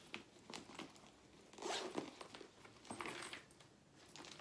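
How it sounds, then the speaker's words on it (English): A purse zipper is pulled open in a few quick rasping bursts, close and fairly quiet, with no talking over it. "And then that's a zipper."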